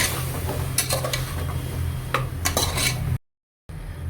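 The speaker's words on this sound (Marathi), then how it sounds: "आणि हे मटार घेतले। याला छान परतून घेऊ।" Green peas, beans and carrots are stirred in a pan for Maharashtrian masale bhat, with a low steady hum beneath repeated close clinks and scrapes of a spoon against metal, ending in a brief cut to silence.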